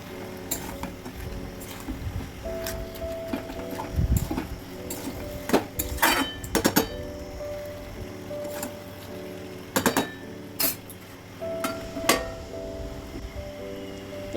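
A pot of fish heads cooking with pumpkin curry is stirred, with scattered metallic clinks and scrapes of a utensil against the pot over a steady hum, then a knock like a lid being set on.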